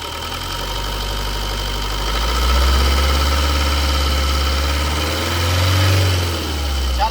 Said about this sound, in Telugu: ఇప్పుడైతే మీకు ఒకసారి ఇంజన్ స్టార్ట్ చేసి చూపిస్తాను, చూడండి ఫ్రెండ్స్.